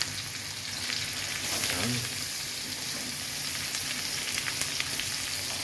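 Ginger sizzles as it drops into a hot frying pan while laing is being cooked, a steady crackling fry throughout with light stirring scrapes and a brief spoken word over it.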